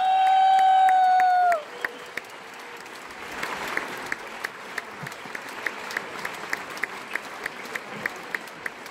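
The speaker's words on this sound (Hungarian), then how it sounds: "Mindenki tapsoljon." A concert audience at a large jubilee show for a veteran singer breaks into sustained, dense applause with scattered cheers, following a held sung note, continuing steadily throughout at moderate distance.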